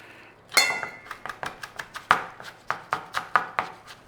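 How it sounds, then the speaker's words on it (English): A knife chops fresh parsley on a cutting board in quick, close, steady taps, about a dozen sharp strikes in a row with no talking over them. "we're going to run a knife over this parsley"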